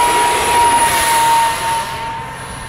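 An FF-117 EDF RC jet plane, modified with cheater holes, flies after a hand launch, its ducted fan giving a loud, steady high-pitched whine and rushing roar that fades slightly as it moves away.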